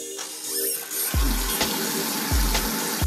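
Tap water runs steadily into a sink while a reborn baby doll's hair is shampooed with baby soap, a continuous broadband splashing with a few sharper low gurgles and thumps as the flow hits the basin.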